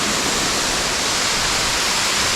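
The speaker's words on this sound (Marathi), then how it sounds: "पाणी बघा ना कसं चाललं आहे." A rain-fed waterfall at Gaymukh near Poladpur in the Sahyadri forest, water flowing fast after rain, makes a loud, steady, unbroken rushing roar that fills the whole scene without any pause.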